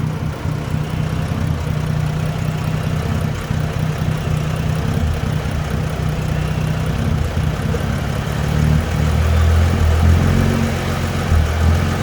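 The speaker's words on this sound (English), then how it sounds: "The idle going up and down." A Dodge Journey engine idles roughly with the alternator cable disconnected, a steady low rumble that swells noticeably louder near the end, heard up close outdoors with no talking.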